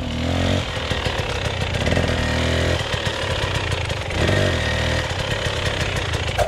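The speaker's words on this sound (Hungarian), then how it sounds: "lassú tempónál kicsit megfékezzük a motort, ezzel összekomprimáljuk az első teleszkópot" A dirt motorcycle engine idles and putters at low speed while braking on a slow approach, a steady close mechanical drone with brief dips and surges in engine tone.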